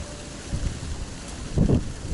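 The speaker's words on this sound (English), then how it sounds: "Very windy." Wind buffeting a microphone outdoors, low rumbling gusts that swell briefly near the end, with no voices.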